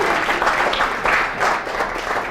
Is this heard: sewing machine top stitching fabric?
no